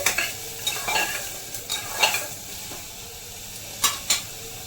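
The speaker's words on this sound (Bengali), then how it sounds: "এই যে ভেজিস দিয়ে দেব গাজর বিনস আর পেঁপে নিয়েছি ভেজিসের মধ্যে" Carrots, beans and papaya stir-frying in a cast iron wok, soft sizzling under repeated scraping strokes of a spatula against the metal, close and moderately loud, no talk.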